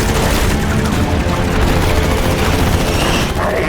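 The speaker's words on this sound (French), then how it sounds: "Plus de missiles! Je passe au canon!" A fighter jet's cannon fires during a dogfight scene in the film Top Gun: Maverick, a dense, continuous roar of rapid shots that stays loud and unbroken the whole time.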